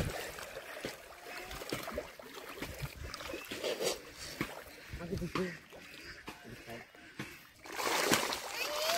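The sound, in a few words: fish jumping and splashing in water after being fed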